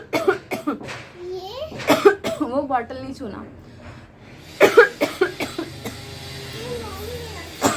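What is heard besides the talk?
mother coughing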